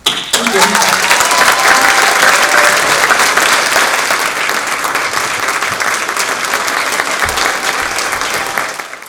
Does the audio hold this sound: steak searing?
no